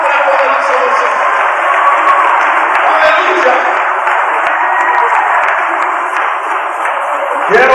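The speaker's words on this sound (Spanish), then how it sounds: "Dale un aplauso al Rey, porque el vive para siempre." A church congregation claps and cheers at a Spanish-language worship service, with steady, dense applause and a few whoops throughout, cutting off near the end.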